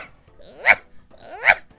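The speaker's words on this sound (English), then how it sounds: "literally through my wall I can hear a dog just like" A dog barks twice through a wall in a house, two muffled, evenly spaced barks sounding fairly close and alone, with no talk over them.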